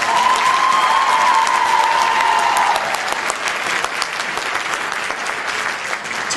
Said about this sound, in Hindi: आरोह ग्रुप के इन कलाकारों के लिए जोरदार तालियां।